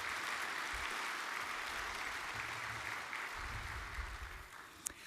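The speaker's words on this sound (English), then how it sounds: "So round of applause for Coastal GasLink" Banquet guests at a natural resources forum dinner give a round of applause, a soft, distant, steady patter of clapping across the room with low murmurs underneath and a sharp tap near the end.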